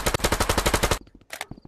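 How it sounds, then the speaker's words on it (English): Rapid automatic gunfire in the video game Rec Room, about a dozen close, punchy shots in a steady burst, followed by a short pause and a few scattered shots, with no talking. "Bro, why are you shooting at me, bro?"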